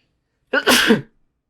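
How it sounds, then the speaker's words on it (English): A single loud sneeze, close to the mic, with a brief sharp intake followed by a forceful burst, then silence. "Excuse me, I had to sneeze."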